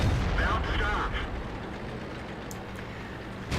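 Tank cannon firing in World of Tanks, a heavy booming blast that opens the clip and rumbles away, followed by low rumble and a few faint clanks.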